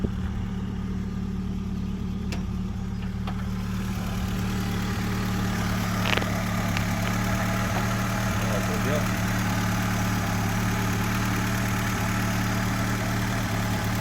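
A small car engine idles, a steady low hum with a faint repeating pulse lasting the whole stretch, while someone speaks briefly over it.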